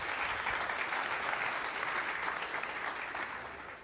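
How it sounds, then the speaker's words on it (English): Sustained applause from a pitch night audience, a dense even wash of many hands clapping that runs steady for several seconds and tapers slightly at the end. "Let's give another round of applause to Mark and to SimpleHedge."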